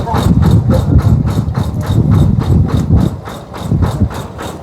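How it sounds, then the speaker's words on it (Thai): A tractor engine chugs steadily with a rhythmic knocking pulse, loud and close, with no voices. "มันเสียงรถไถมันนั้น"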